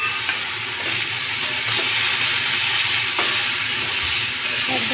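Prawns fry with turmeric in a little oil, a steady close sizzle running unbroken throughout, with occasional soft clicks and scrapes of stirring.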